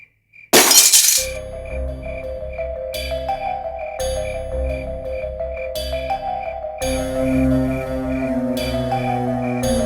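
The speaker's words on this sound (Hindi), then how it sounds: "ये कौन सी कांच टूटने की आवाज आई?" Glass shatters loudly and suddenly near the start in a horror film scene, followed by a sustained eerie musical drone with a steady pulsing tone for the rest of the clip.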